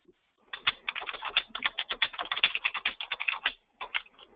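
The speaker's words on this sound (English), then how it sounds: "They're typing." Rapid, close keystrokes clatter on a computer keyboard in a dense run of crisp clicks, briefly pausing before a final short burst, with no voices.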